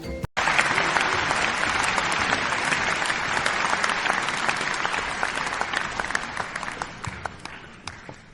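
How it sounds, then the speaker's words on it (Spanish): Audience applause welcoming a student presenter at a school literature exposition starts abruptly and loud, a thick patter of clapping that gradually thins and fades toward the end. "Recibámosla con unos fuertes aplausos."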